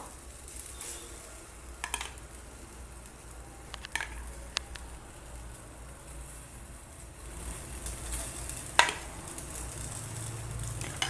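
Egg mixture poured over a chapathi frying in an oiled pan over medium heat gives a steady low sizzle, with a few light clinks of a utensil against the pan.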